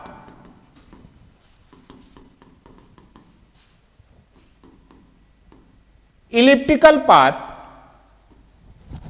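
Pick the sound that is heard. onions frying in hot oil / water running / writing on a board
writing on a board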